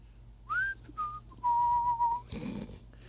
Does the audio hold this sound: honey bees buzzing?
no